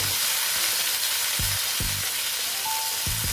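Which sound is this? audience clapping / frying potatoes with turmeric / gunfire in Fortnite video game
frying potatoes with turmeric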